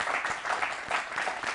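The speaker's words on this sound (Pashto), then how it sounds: "دوستان یو چکچک ورته وکړئ" Audience applause for a guest on a Pashto television program, a steady wash of clapping from a crowd, moderately loud and continuous with no talk over it.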